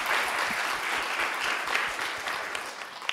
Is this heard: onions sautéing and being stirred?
no